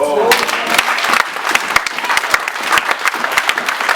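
A church congregation applauding and cheering for Jesus, loud crowd clapping with shouted voices over it, steady and close throughout.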